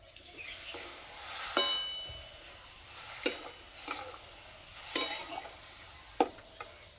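Semolina is stirred with grated carrot in a pan, a quiet hiss broken by a handful of sharp scraping and clinking strokes against the metal at irregular intervals.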